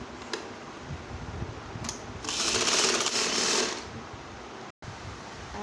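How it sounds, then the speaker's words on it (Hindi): A sewing machine stitches elastic onto a kurti in one steady run of about a second and a half, close and fairly loud, with faint clicking and handling noise before and after. "इलास्टिक पे हम सिलाई मारेंगे"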